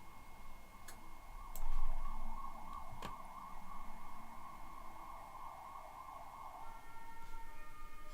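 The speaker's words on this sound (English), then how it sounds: "The ambulances." An ambulance siren wails on a Budapest street as a sustained, steady tone at moderate distance, accompanied by a few sharp clicks and faint background noise.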